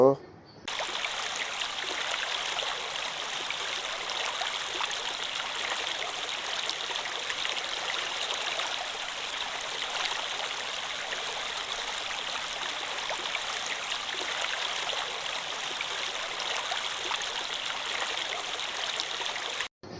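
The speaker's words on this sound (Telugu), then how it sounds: "మరి దారుణంగా ఉంది వాటర్ ఫాల్స్" A waterfall in a forest gives a steady, dense rush of falling water that stays even and loud from start to finish.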